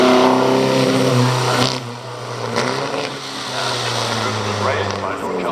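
An early Bugatti Type 35 races up the Prescott hill climb, its engine note rising and falling through gear changes. The loud, close engine is heard from start to finish.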